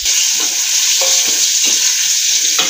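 Palm sugar syrup and bubur sumsum being reheated on a home stove, a loud, close, constant sizzle with intermittent stirring scrapes and clinks, no voices.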